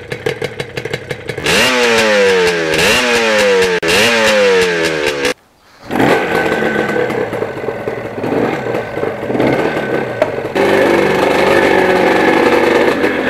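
A two-stroke motorcycle engine revs hard close by, climbing repeatedly in sharp rising wails, cuts out briefly, then bursts back into a loud raspy buzzing idle and running drone.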